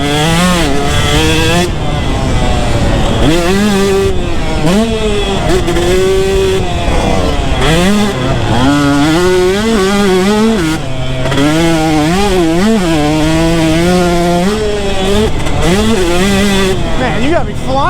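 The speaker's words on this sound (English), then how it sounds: "doing a little bit of dirt bike riding, having fun with our friends, trying to get a little bit better on the dirt bike" A KTM 150 SX two-stroke dirt bike rides around a motocross track. Its engine buzzes loud and close, revving up and down in repeated rising and falling sweeps as the rider works the throttle.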